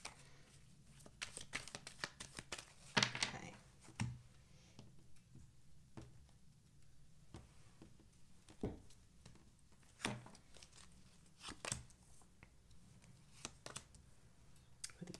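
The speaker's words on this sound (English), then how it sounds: "let me just finish shuffling up the cards for Sagittarius" Tarot cards are shuffled by hand close up in a quiet room, with soft irregular riffles, slaps and bursts of card noise scattered across the stretch, and no talk.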